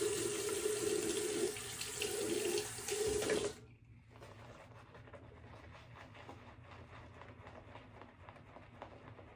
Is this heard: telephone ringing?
no